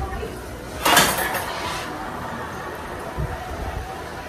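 A cooking pot and fork clatter while someone checks potatoes boiling for a seafood boil: one sharp metallic clank and scrape, then a softer knock later over quiet kitchen background.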